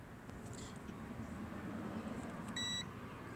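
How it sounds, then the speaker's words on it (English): A continuity tester beeps once, a short high electronic tone confirming a working gas door switch on a Foxbody Mustang, heard faintly over quiet background noise. "you should be able to hear an audible beep from your machine"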